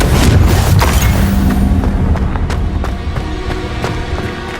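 A Confringo spell explosion from the video game Hogwarts Legacy sounds as a loud, deep booming blast that rumbles and fades over several seconds, with a few sharp crackles along the way. No one speaks over it.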